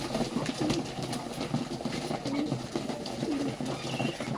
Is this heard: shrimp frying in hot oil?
no